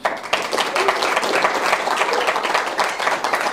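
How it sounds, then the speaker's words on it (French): An audience gives a thunderous round of applause for a speaker introduced before an AI talk, a thick continuous roar of clapping with a few cheers, steady and close throughout. "faites un tonnerre d'applaudissements pour Simon"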